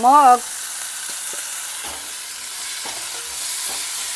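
Green chilli sizzles steadily in hot oil as a tempering for soaked mung beans, a loud continuous frying hiss that opens with a short tonal squeak and carries faint stirring knocks.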